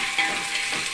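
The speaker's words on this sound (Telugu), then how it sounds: "టమాటా ముక్కలు కొంచెం మగ్గబెట్టుకుందాము." Tomato pieces sizzle softly in hot oil for biryani, a brief faint crackle with a hiss.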